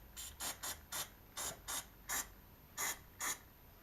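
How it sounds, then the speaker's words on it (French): Short aerosol spray-paint bursts onto a slightly rusty car body panel, about nine quick hissing puffs in an uneven rhythm, close and fairly quiet with no talk. "puisqu'elle est légèrement rouillée, je vais remettre un petit coup de bombe dessus"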